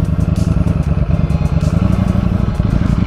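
A motorcycle in street mode rides off with a loud, close, throbbing engine rumble that pulses rapidly and steadily throughout, with a faint rattling clatter on top.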